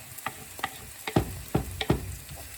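Garlic frying with onions and courgette in a pan, a steady sizzle broken by several scraping stirs, close up with no voices.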